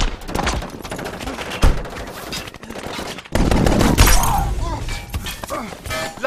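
Automatic weapons fire in a movie ambush scene in Afghanistan, loud dense bursts with sharp impacts and shattering, with shouted voices mixed in and a heavier burst of shooting in the second half.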